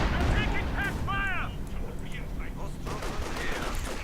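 A mortar fires in the World War II strategy game Company of Heroes 2, with muffled booms and battle noise layered beneath brief game voice chatter.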